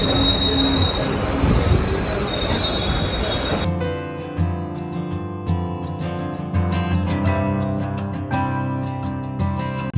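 Wheels of a Jan Shatabdi passenger train on the Mumbai to Sawantwadi Konkan route squeal shrilly over loud rolling rumble, then shift to a steadier metallic screech with clattering as the train moves along.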